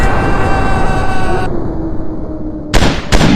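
Counter-Strike gunfire in a video game: a dense, continuous burst of shots at close range fills the first half, then the sound thins out before two sharp, loud bursts land near the end.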